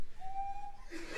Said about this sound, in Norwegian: Enda en fløyte, denne gang med glissando.